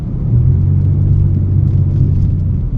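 A car engine rumbles low and steady at close range, a continuous deep drone that holds evenly for a few seconds with no voices over it.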